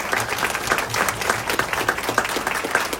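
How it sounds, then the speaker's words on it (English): A crowd at a vaccine choice rally gives a round of applause, dense continuous clapping with a few more prominent claps, lively and close, with no speech over it. "So give yourselves a round of applause,"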